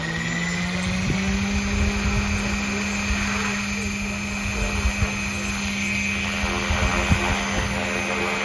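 Scale Agusta A109 Coast Guard RC helicopter with a 4-blade head flying at 1,300 RPM, a steady loud rotor and engine whine with a constant tone, continuous throughout with small bumps in level.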